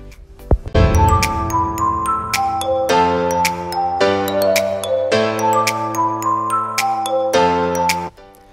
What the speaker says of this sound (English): please don't forget to subscribe and hit on the notification bell